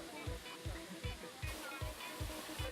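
Bidadari waterfall, fed from a protected mountain forest, pours down in a steady, continuous rush of water, with a regular low thudding beat running underneath throughout.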